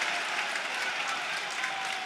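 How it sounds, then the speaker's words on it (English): Home supporters applaud at a Millwall versus Leeds United football match, a steady, dense wash of clapping from a large stadium crowd, continuous and moderately distant throughout. "you can hear the applause from the home supporters for that"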